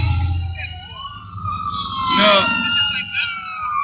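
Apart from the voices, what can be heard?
emergency vehicle sirens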